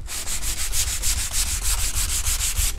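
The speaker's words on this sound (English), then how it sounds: "Here's how you sand with 220." Wood is sanded by hand with 220 grit sandpaper, a close, steady rhythm of rasping back-and-forth strokes with the grain, roughly six strokes per second, with no one talking.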